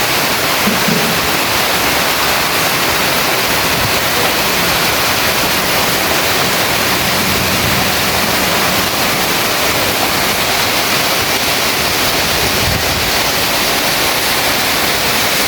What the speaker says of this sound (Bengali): প্রচুর পরিমাণ বৃষ্টি হচ্ছে, প্রচুর।